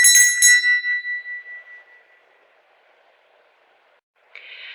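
A bell strikes sharply and close up, then its ringing tone fades away over about two seconds.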